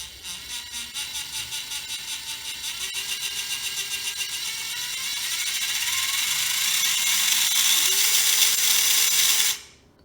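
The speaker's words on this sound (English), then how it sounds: "So let's spin this motor up here before we start looking at all the light functions." The motor of an SCX24 RC crawler with an aluminum Ripper body spins up through metal gears, a close mechanical whine with a ratcheting buzz that climbs steadily in pitch and intensity before cutting off abruptly.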